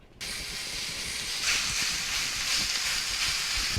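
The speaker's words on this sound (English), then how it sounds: "Just a little bit of oil, get the party started. And we're gonna add our pork." Pork hitting a little hot oil in a pan on the stove for dan dan noodles, a sudden loud sizzle that starts abruptly and hisses steadily throughout.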